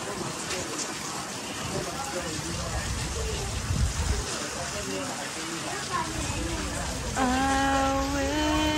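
Steady rain falls on a rainy day in Singapore, a dense, even hiss throughout. A voice rises near the end.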